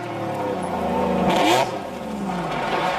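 A Lancia Stratos sports car drives past close by, its engine revving and rising in pitch as it accelerates, then settling into a steady loud roar, with no talking.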